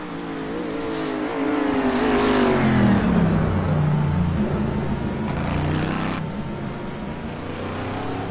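A race car at speed crosses the finish line to win the race. Its engine roars loud and close in a steady, rising drone, pitch shifting as it sweeps past, with no talk.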